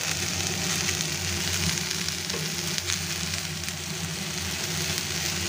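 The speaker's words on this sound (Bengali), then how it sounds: "এখানে চিংড়ি মাছটা ভাজা হচ্ছে, আমি এটা বসিয়ে দিলাম।" Prawns sizzle and fry steadily in a pan of oil seasoned with salt and turmeric, a dense continuous crackle heard close with no talking.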